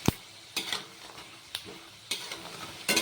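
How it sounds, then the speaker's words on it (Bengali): Quiet sizzling of dry chillies, nigella seeds and potatoes frying in oil, broken by several sharp scraping stirs of a spatula against the pan. "একটু কালো জিরেটাকেও আলুর সাথে ভালো করে ভেজে নিতে হবে"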